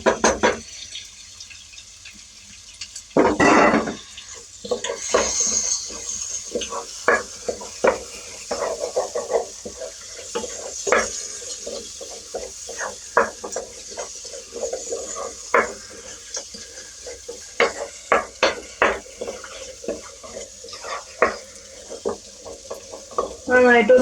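Fried prawns being stirred into biryani masala in a pot, with repeated scraping strokes over a soft sizzle, close and moderately loud, with a brief louder clatter near the start.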